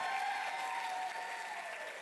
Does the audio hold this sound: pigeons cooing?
no